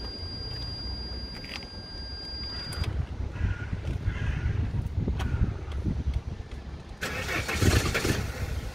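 Repeated starter cranking from a car engine that never fires, ending with a louder grinding attempt. A crow caws in the background.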